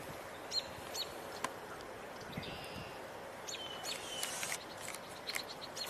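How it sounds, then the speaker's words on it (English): A robin calls with short, sharp alarm chirps scattered over several seconds, faint and distant against a soft outdoor background hiss. "I hear a robin."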